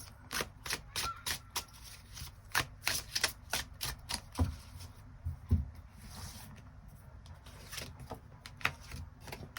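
Extra tarot cards being drawn and shuffled, a run of quick, crisp card flicks and slaps close by, dense at first and then sparser.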